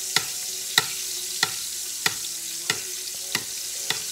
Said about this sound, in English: I'm just going to keep on basting.